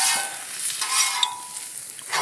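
Hare meat fries in oil in a pan, giving a steady broadband sizzle that fills the whole clip with small crackles and a slight swell near the end; no one speaks.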